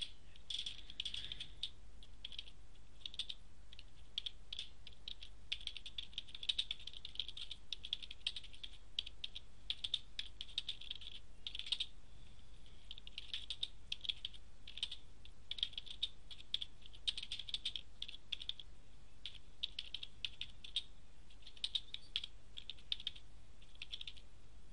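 Steady typing on a computer keyboard into WordPad, quick soft key taps in an unbroken run for about twenty-five seconds, close and fairly quiet, with no voices.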